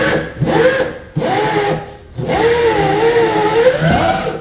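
A sharp, new drill bit bores a hole at a housing construction site. A loud, wavering motor whine runs in three bursts separated by brief pauses.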